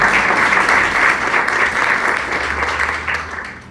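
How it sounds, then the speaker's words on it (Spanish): Congregation in a church service clapping in praise, a loud, dense and sustained round of applause that tapers slightly toward the end. "Vamos aplaudir ao Senhor."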